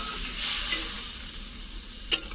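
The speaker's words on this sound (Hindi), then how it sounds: "इसको अच्छा से मसाला को फ्राई करते हैं।" Masala paste of onion, chili, garlic, cumin and crushed mustard frying in a pan for fish curry, a steady soft sizzle with light stirring scrapes and one brief sharp clink near the end.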